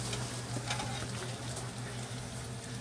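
Quesadilla with cheese and pulled pork sizzling on a hot flat top, a steady soft crackle and hiss throughout, fairly quiet with no talking.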